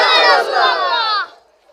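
A crowd at an Islamic waz gathering in Giyas Nagar roars a loud, sustained chant of religious slogans in unison, answering a takbir call, holding for about a second before cutting off abruptly.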